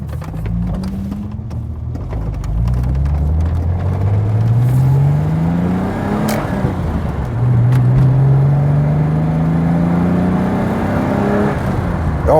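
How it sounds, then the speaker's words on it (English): Ford Sierra XR4i six-cylinder engine revving up and down through several rising and falling pitch sweeps, loud and close with a steady throaty drone and no talk. "It's that sort of old school 6-cylinder wah."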